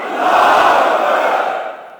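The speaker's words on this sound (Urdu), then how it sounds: "تکبیر کے نعرے پہ تو یک زبان آواز آنی چاہیے، نعرہ تکبیر۔" A large religious gathering at Mansoora, Lahore roars a unison Allahu Akbar chant in answer to a call, one loud sustained collective shout that swells and then fades away.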